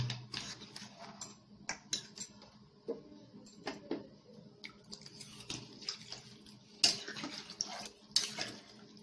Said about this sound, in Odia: ଏବେ ଦେଖନ୍ତୁ ମସଲା କଷି ହେଇଗଲାଣି, ବେଶୀ ଆମେ ତ କଷିବାନି, ତ ଏବେ ପାଣି ଆଡ଼ କରିଦେଉଛନ୍ତି